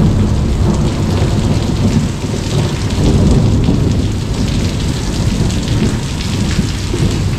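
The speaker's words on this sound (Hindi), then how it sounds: "फुल तेज बारिश शुरू थी गई है" Heavy rain pours down steadily with rumbling thunder during a village wedding in Pakistan, a dense, loud, continuous roar with no voices.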